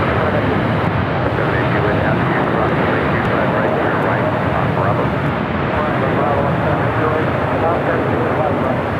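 An airliner roars at Los Angeles LAX airport, a loud, steady, broadband engine rush that holds for the full stretch with no break. No voices rise above it.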